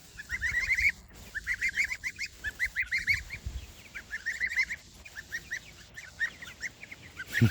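Geese honk repeatedly in short nasal bursts near a flock of chickens on a homestead, a busy chattering series of calls close by with brief pauses and no talking.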